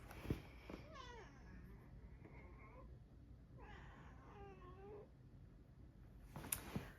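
A cat meows twice, drawn-out and wavering, over steady background hiss at a fiber festival, with a couple of sharp clicks.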